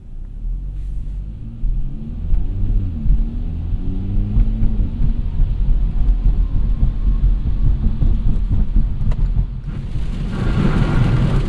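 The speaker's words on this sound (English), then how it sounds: "it's raining quite a bit out here." Heavy rain drums on a moving Hyundai Elantra Sport, heard from inside the cabin over a deep road and engine rumble, with a burst of spray near the end.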